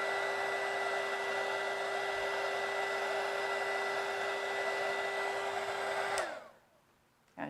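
A heat tool blows hot air to soften resin on a beach-themed Dutch pour clock, giving a steady loud whirring roar for about six seconds before switching off and winding down.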